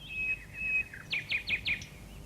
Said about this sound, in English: All around them, in the tops of the trees, the nightingales were singing.